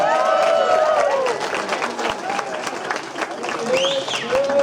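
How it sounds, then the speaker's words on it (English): Audience at a fundraiser event breaks into applause and cheering for a speaker, loud dense clapping that fades somewhat while voices and shouts carry over it. "Give him a big round of applause"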